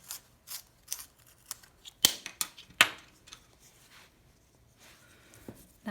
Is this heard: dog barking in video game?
no